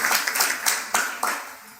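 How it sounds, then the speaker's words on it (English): Brief applause from a temple gathering, scattered hands clapping in a few uneven bursts that fade quickly. "Please give Pandit a round of applause."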